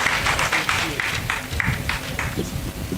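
Audience applauding at a Baringo County education bursary and scholarship launch to welcome the Equity Bank manager: steady, dense clapping from a crowd throughout, with a low murmur of voices underneath.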